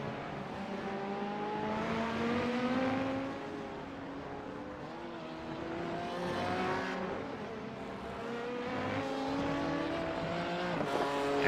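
Race car engine in iRacing at Le Mans, a continuous close whine that rises and falls with gear changes and acceleration over several seconds, alone without voices.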